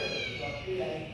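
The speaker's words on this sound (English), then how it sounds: "We have a cat." A small collared cat meows indoors in a dim London pub, a short tonal cry rising over steady background chatter and bar noise.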